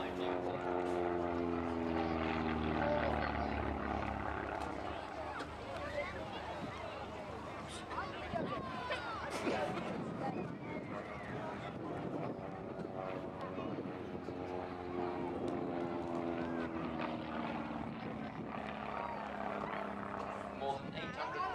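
An SF-260 propeller sports plane passes overhead, its engine drone swelling, fading and shifting in pitch throughout, heard alongside someone speaking.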